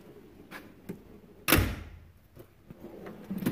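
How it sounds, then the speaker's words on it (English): A single solid thunk as a metal toolbox drawer slides out and stops, close by in an otherwise quiet space with faint rustling. "I got to pull the drawer out the whole way"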